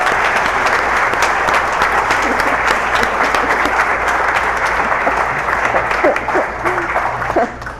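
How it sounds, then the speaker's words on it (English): A congregation at an Earth Day service claps for its participants, a loud, dense round of applause sustained evenly before tapering off at the end. "Let's give them all our participants, a round of applause."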